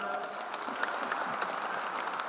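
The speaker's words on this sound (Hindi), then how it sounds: "जोरदार तालियां" An audience at a wellness company event applauds at a moderate distance, a dense, even patter of many hands that keeps steady throughout at low volume.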